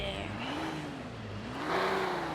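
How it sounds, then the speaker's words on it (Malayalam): A Toyota Innova Hycross engine starts and revs during an off-road drive, its fairly quiet hum rising and falling in pitch over a couple of seconds with no one speaking. "വണ്ടി സ്റ്റാർട്ടല്ലേ"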